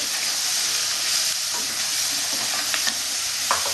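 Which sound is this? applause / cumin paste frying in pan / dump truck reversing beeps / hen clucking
cumin paste frying in pan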